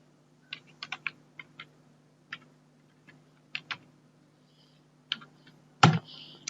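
Keys on a computer keyboard are tapped in short, sparse bursts of close clicks over a quiet low hum, ending with a louder thump and rustle.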